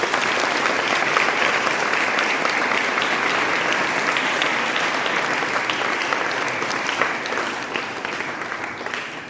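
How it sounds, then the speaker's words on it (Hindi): Sustained applause from an audience clapping for stage dancers and speakers at a Bhim Jayanti birth anniversary celebration for Babasaheb Ambedkar, dense and steady throughout, tapering slightly toward the end. "सबके लिए ताली बजाइए।"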